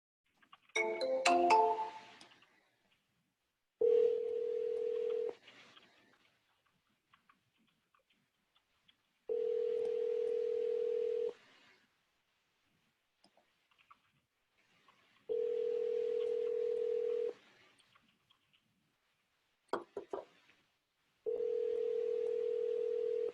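Outgoing calls in an automated phone dialing system, heard as a burst of keypad tones followed by repeated ringback tones in steady two-second pulses separated by silence, with a few short clicks between rings.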